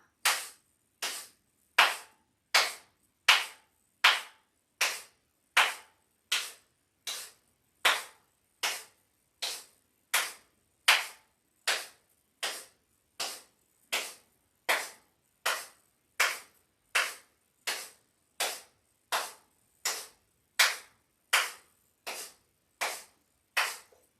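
Sharp single hand claps repeat at a steady, even pace, about one every second, during a live-streamed yoga breathing exercise, each crisp clap standing alone with silence between and no voices.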